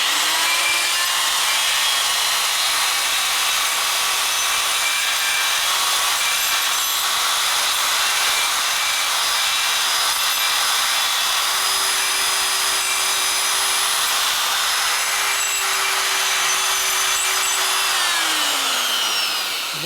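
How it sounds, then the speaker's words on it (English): Grinder whining steadily at high speed on a part from a 1979 93ci Harley shovelhead engine under rebuild, continuous and close with no talk, spinning down near the end. "I'm going to use this grinder and the other grinder to kind of play with a little bit here"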